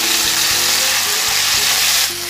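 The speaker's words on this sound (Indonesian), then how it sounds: "Daging sapinya setelah dimarinasi saya goreng dulu sebentar ya teman semua" Marinated beef fries briefly in a pan with a loud, close, continuous sizzle, a low hum running underneath and no talking, easing slightly near the end.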